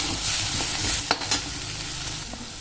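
Chhole masala roasts in hot oil, a dense close sizzle broken by a couple of sharp spoon scrapes and taps against the pan.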